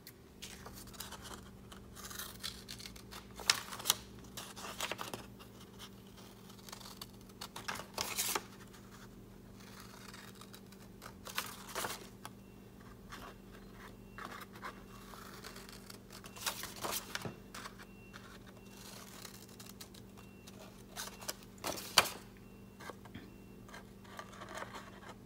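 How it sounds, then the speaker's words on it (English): Scissors cutting flaps along the hexagon lines of a cardboard box for a honeycomb craft, faint scattered snips and scratches repeating at irregular intervals over a quiet background. "So you're just going to cut that one line, rotate, cut the other line, rotate, cut the other line, rotate all the way around."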